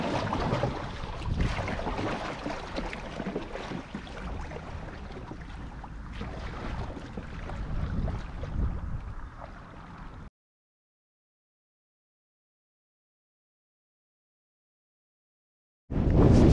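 Kayak paddling through cold water in freezing minus seven degree weather, a steady wash of splashing and wind buffeting close to the microphone, then a long silence before the noise abruptly returns.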